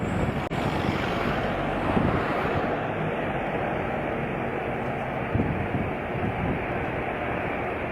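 A Boeing 777 airliner comes in to land at Manchester in a strong crosswind, heard as a steady, continuous roar of engine and wind noise with no clear change throughout.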